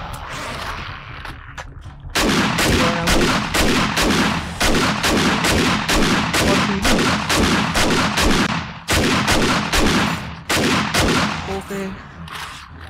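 Automatic rifle fire in the zombie survival game 7 Days to Die, starting after two seconds as a dense, loud run of rapid shots with short pauses, near and dominant through the rest.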